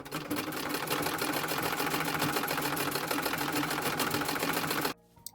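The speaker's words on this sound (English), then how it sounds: "I'm just stitching one side of my strip of fabric down onto the ribbon" A sewing machine runs steadily, stitching a strip of fabric down onto ribbon for a 1920s dress, its fast even needle rattle close and continuous for about five seconds before stopping abruptly.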